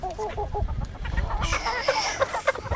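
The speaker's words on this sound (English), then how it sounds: "So just let the chickens out over here." A small backyard flock of chickens clucking nearby, overlapping short rhythmic clucks and a few sharper calls in quick succession.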